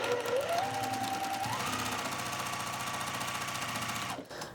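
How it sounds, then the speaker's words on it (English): A sewing machine runs steadily at close range, stitching fabric scraps for a king-size scrappy log cabin quilt, its motor holding a continuous rhythmic whir that speeds up briefly and then cuts off near the end. "I am just going to start lining things up and sewing basically."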